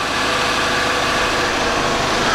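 A BMW X5 engine idles steadily at working temperature after a partial flood, heard close and loud as a continuous even hum with no talk.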